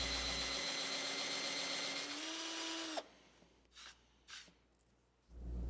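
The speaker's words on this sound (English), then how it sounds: "I'm drilling a 1/4 inch hole" A power drill bores a 1/4 inch hole in wood for a wall clock. A loud, steady whine runs for about three seconds, then cuts off, leaving a few faint knocks and handling sounds.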